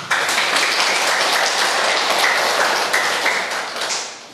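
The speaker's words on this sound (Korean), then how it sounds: "박수 한번 해볼까요?" A church congregation breaks into applause during a sermon, a dense, loud wash of clapping that holds steady and then begins to thin and fade near the end.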